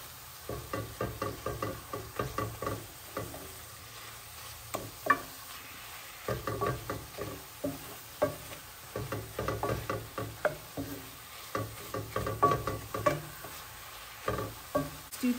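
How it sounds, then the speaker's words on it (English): Ground beef frying in a pan is stirred and smashed with a utensil, giving repeated scraping taps in an uneven rhythm over a soft, steady sizzle, close and fairly quiet, with no talking. "give it a stir. And when you stir it, really smash up your beef."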